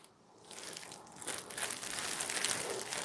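A plastic polythene cover is pulled off a large compass, giving a continuous close crinkling and rustling that builds after a quiet start and stays steady to the end.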